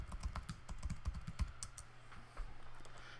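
Rapid clicking keystrokes on a computer keyboard as a password is entered during a login, a dense burst of close taps that thins out into a few scattered presses with a low background hum.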